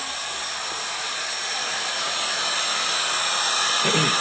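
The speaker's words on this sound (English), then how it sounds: "Turn the heat gun on." A heat gun warms a Kydex sheet for a knife sheath, blowing with a loud, steady, hissing rush of air that holds constant throughout, with no talk.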